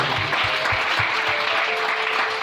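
A church congregation claps in sustained, steady applause, with a dense wash of hand claps filling the space throughout.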